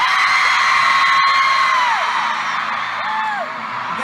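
A concert crowd in a large arena screams and whoops loudly, with sustained high-pitched voices rising and falling together, dropping briefly before a second swell of yells.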